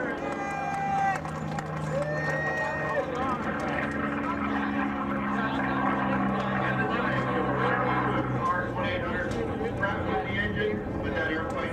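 A racing propeller plane roars past loudly with a steady engine drone at the 2008 Reno air races, blended with a crowd and an announcer talking over it.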